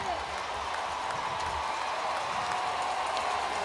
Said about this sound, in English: The crowd is loving it inside of the red zone.